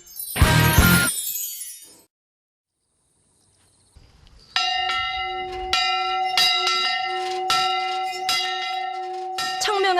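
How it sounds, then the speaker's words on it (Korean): A church bell rings in a steady series of clear, resonant strikes that follow a burst of voices and a brief silence, the tolls fairly close and loud and continuing to the end. "청명한 종소리가 울려 퍼지면 주님의 사랑을 외치는 사람들이 있습니다."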